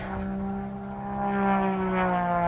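An aerobatic competition airplane drones overhead, its propeller engine giving a steady harmonic tone that swells louder midway and holds, with no talk.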